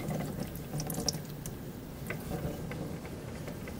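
Oil drains from a removed Honda Civic oil filter into a drain pan, a steady low trickle with faint ticking drips running throughout.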